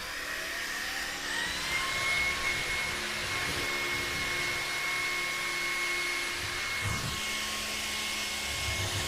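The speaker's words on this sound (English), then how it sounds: "This vacuum can bend to 180 degrees, so let's go ahead and test it out." Levoit LVAC-300 cordless vacuum cleaner bent flat and running under a couch, a steady close whine with a constant motor tone throughout, no talking.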